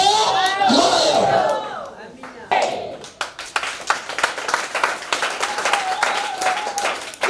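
A church congregation claps and cheers loudly in a full burst. The applause fades into scattered rhythmic claps while a preacher speaks over it.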